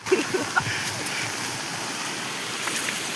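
Rainwater runs down from a hillside in a steady rushing flow, close and continuous, with a few small splashes and knocks at the start.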